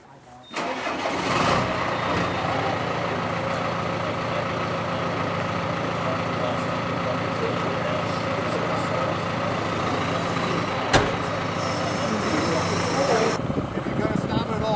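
Snow groomer engine starting, catching with a sharp rise, then running at a steady loud idle, close and continuous, with a brief knock near the end.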